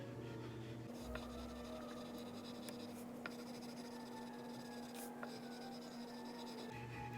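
A black Sharpie marker colors across paper in steady, faint scratchy strokes, continuous rubbing under a low background hum, close and quiet with no talking.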